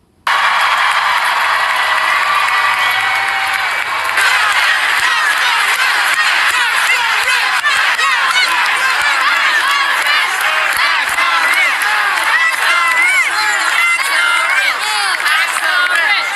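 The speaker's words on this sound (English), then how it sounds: "This is a rally with Mamdani and the New York governor, with the crowd chanting, "Tax the rich."" Rally crowd with Mamdani and the New York governor, a dense mass of voices shouting and cheering continuously and loudly throughout, rising into rhythmic chanting.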